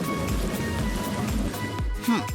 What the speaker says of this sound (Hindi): वाकई में बारिश भी हो रही है